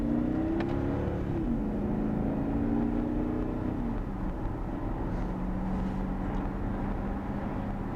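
A 2016 all-wheel-drive V8 Dodge Charger police interceptor accelerates up to speed from inside the cabin, its engine note rising through a couple of gear shifts before settling into a steady low drone beneath road and tire rumble.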